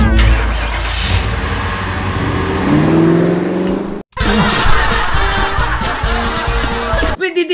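Truck engine starting and revving loudly up close, a strong roaring burst that cuts off abruptly, then returns with clattering mechanical noise, heard beside a hamster sniffing the truck.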